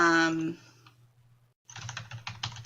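After a brief voice, a short run of quick, light clicks from a computer keyboard being typed on comes in near and fairly soft.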